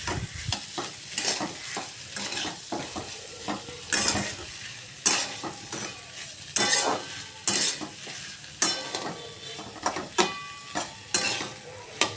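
A spoon scrapes and stirs mashed potato filling for Pune-style vada in a pan, with repeated sharp clacks and scrapes in an irregular rhythm over a soft background sizzle, close and clear with no talking.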